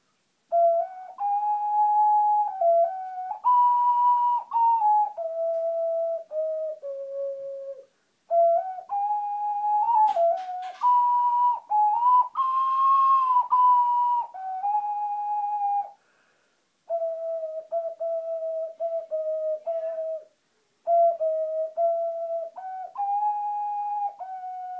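An ocarina plays the opening of a theme as a slow, pure, whistle-like melody in several phrases separated by brief pauses, solo and clear throughout.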